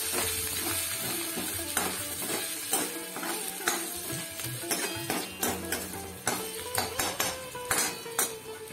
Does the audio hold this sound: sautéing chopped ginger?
yes